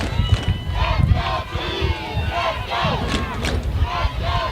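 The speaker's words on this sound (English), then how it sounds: "Let's go Chiefs is the chant" At a youth football championship game, a crowd chants "Let's go Chiefs" in rhythmic, loud, massed voices that carry across the field, with a commentator's talk partly overlapping.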